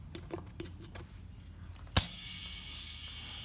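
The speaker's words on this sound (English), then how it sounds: "Might get a bit noisy with the compressor, but we'll just pump it up" An air compressor starts abruptly and pumps up a tyre during a high-mileage vehicle service, giving a loud steady hiss of air after a few faint clicks and taps.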